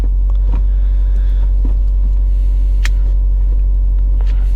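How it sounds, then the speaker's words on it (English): A Subaru WRX STI idles and warms up in a parking lot with a deep, loud, steady rumble, while a few brief clicks and knocks of gear shifting cut in over the engine. "I'm in the parking lot warming up my car and I'm just shifting"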